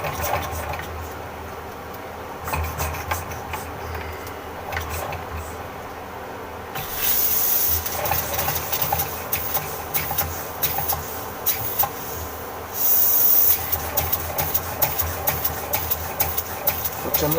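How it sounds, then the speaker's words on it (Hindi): A homemade steam engine built from a sewing machine runs with a continuous mechanical chugging under hissing steam that grows louder in two distinct jumps as pressure builds. "प्रेशर बनता जा रहा है, इंजन चलता जा रहा है।"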